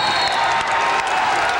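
A basketball crowd in Siebens Fieldhouse roars and applauds during a timeout, a dense, loud, sustained wall of cheering from the stands.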